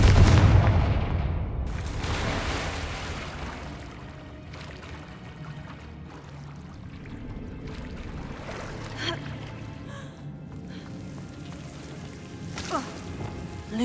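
A Confringo fire spell explodes in Hogwarts Legacy: a loud, sharp blast at the start, then a long rumbling tail with scattered crackles and thumps that fades in and out.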